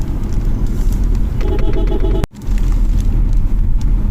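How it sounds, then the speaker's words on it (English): The engine of a 2024 Citroen C3 Aircross with an automatic gearbox runs at mid-range revs, giving a loud, steady rumbling drone. It cuts out for a brief moment partway through, then carries on. "So let me just rev it up a bit"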